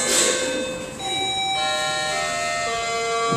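A bell signalling time in a debate rings with clear sustained tones that shift in pitch partway through, loud and close, with no talking.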